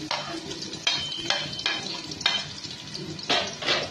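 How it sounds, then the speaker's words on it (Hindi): Onions frying in oil in a pan for biryani, a moderate sizzle broken by several sharp stirring scrapes, close up with no speech. "तेल मैंने डाल दिया है पैन में। अब मैं इसमें सारी प्याज डालूंगी।"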